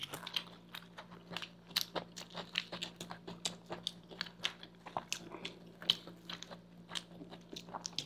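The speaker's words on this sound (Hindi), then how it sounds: "नैना सच में बहुत ही टेस्टी बनाई है बर्गर" Someone biting and chewing a homemade burger up close, a steady run of crunchy bites and moist chewing with faint background hum, no talking.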